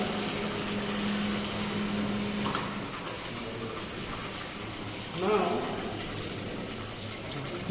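Water discharging from an opened pipe into a tank makes a steady rushing, splashing flow that runs throughout, with a voice speaking briefly over it.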